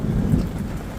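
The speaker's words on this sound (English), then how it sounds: "And just like that, thunderstorm." A thunderstorm from a super cell breaks in early afternoon near Kangaroo Valley, with a deep rumble of thunder over a dense wash of rain, loud and close throughout, no voices.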